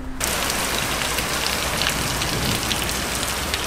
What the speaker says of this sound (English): Still raining. Raining harder.